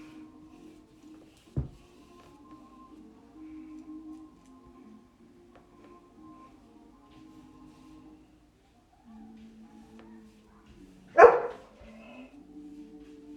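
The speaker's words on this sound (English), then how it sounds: "my dog wants to eat up the neighbor's dog because it's small. That's why it is making so much noise" A dog barks at a neighbor's small dog: two sharp, isolated barks several seconds apart, the second louder, over a quiet indoor background with a faint steady hum.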